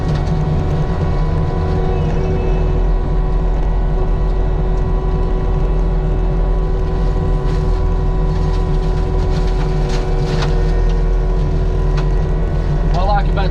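A Cat 299D2 XHP compact track loader mulching trees on a thinned wooded lot: a loud, steady diesel engine drone with a whining mulcher head, running continuously close by with no pauses.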